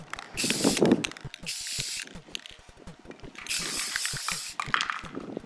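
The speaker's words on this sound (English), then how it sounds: "I'm spraying it till it looks kind of wet everywhere." A spray paint can hisses in several long bursts coating a replica sword, close and loud, with rattling and handling clicks in between.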